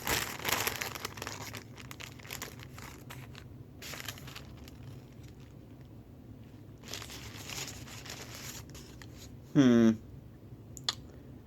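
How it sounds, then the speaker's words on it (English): Paper wrapping of a Taco Bell takeaway chalupa crinkling and rustling in bursts close by, with a brief squeaky tearing near the end and a person talking at times. "Now all we have to do is unwrap it."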